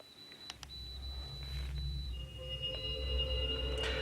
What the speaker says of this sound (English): the EMF beeping away in the background